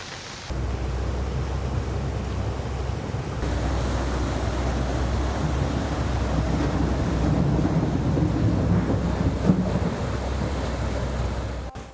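Heavy rain with thunder, a loud, steady roar of broadband noise with low rumbling, continuous throughout and without any speech.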